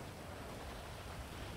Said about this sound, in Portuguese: Olha a chuva que tá.